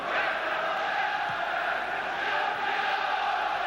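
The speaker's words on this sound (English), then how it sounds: "Certainly the crowd are doing their best to rouse Manchester United to draw that first goal into that Fenerbahçe net." A football stadium crowd at a 1996 Champions League match between Manchester United and Fenerbahçe roars and chants in a sustained, distant wash of voices, with no break across the moment.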